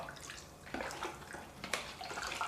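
Water and drink flavouring mixed together for frozen slushie drinks, giving a brief stretch of liquid swishing with a few sharper splashy accents, close by, and no voices.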